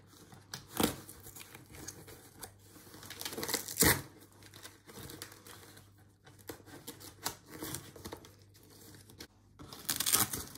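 Velcro fabric straps being torn apart and reattached on an Ergobaby Metro 3 stroller while its fabrics are removed, giving repeated close ripping and crinkling rustles of varied length.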